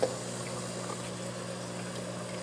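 Aquarium water from an auto water change system running steadily through an overflow, down over filter pads, a drip plate and lava rock, a constant low trickling wash with a faint hum, alone and moderately quiet.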